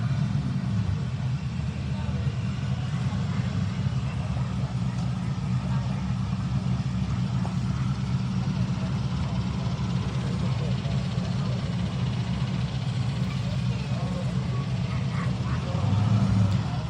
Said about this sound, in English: we got the Pro-Charged green S10 in the left, and we got the 5th gen Camaro, nitrous Camaro in the right